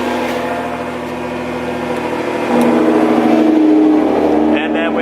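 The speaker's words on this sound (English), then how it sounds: "But pretty smooth sounding, just idling like that." Nissan GT-R R35 with Armytrix Valvetronic decat straight-pipe exhaust idling with the valves closed, a smooth, steady low hum that swells slightly louder midway and holds, with faint voice-like sounds in the background.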